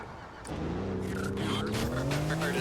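A supercar in Grand Theft Auto IV revs and drives, its engine rising in pitch after a brief quiet start, loud and close, with a honk-like tone mixed in.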